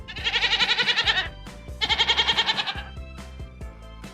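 A goat bleats loudly in two long, wavering calls, close up, each a quavering tremolo lasting about a second, followed by quieter clicking sounds.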